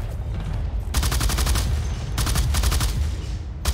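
Rapid automatic gunfire bursts in the online shooter Blacklight: Tango Down, a long sustained burst followed by a pause and another extended burst, loud and close over a low rumbling game background.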